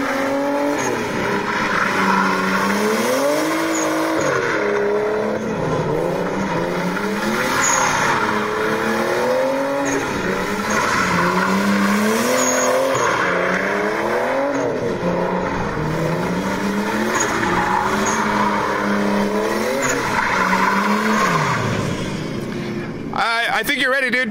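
A car drifting at a track, with its engine revving up and down in repeated cycles and tire squeal layered over it, loud and continuous for the whole stretch.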